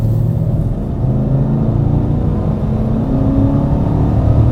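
GMC Sierra pickup with a 5.3-liter engine accelerating hard, a loud steady low rumble and rising engine drone heard from the cabin throughout, with no talk over it.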